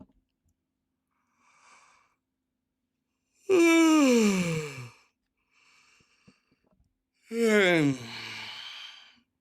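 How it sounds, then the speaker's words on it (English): A person yawns twice, each a long voiced yawn sliding down in pitch and ending in a breathy exhale, close by, with quiet breaths in between. "That was a real yawn. That was a legit yawn."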